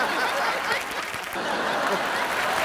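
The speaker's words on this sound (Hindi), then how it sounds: "तो साथियों, एक बार जोरदार तालियां हो जाएं शौकत अली खान साहब के लिए।" A studio audience on a game show applauds for guest Shaukat Ali Khan, a sustained burst of clapping at close range with a few chuckles mixed in.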